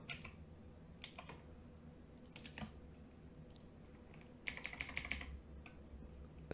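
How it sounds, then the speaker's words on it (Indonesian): A computer keyboard is tapped in short, quiet bursts of clicks, with a quick flurry of keystrokes near the end over a low background hum. "Sekarang kita sudah bisa menekan tombol-tombol keyboard tersebut untuk melakukan interaksi dengan input debit"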